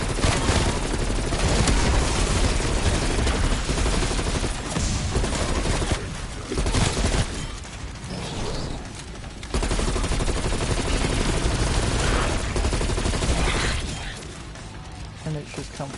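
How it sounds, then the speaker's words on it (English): XM4 rifle fire in Call of Duty Cold War zombies, dense rapid automatic bursts, loud and nearly continuous with brief pauses and explosive impacts, while a voice talks throughout. "the XM4 is shooting a lot bigger bullet and a lot faster"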